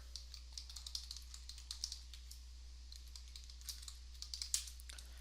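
A command is typed on a computer keyboard, with quick, light keystrokes clicking in uneven bursts, fairly faint and close, over a low steady hum.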